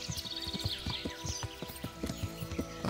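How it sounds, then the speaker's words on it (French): A horse gallops steadily through a forest in the medieval video game Kingdom Come: Deliverance, with rapid, close hoofbeats thudding in a continuous rhythm throughout. "Courir, galoper du moins avec mon cheval, mon fidèle colonel."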